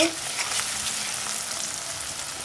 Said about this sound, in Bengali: এখন আমি রসুন বাটাটা দিয়ে দিব